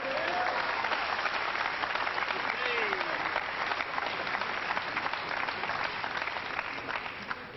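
Cardiff crowd at a World 9-Ball Championship pool match applauding Steve Davis, a loud, sustained wash of clapping that holds steady for several seconds and then eases slightly at the end.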